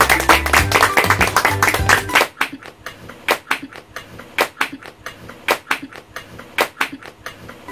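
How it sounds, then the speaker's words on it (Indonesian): Loud music stops abruptly, then sparse scattered claps follow from a small audience at a comedy game show, several sharp separate hand claps with gaps between them. "Berikan tepuk tangan yang meriah."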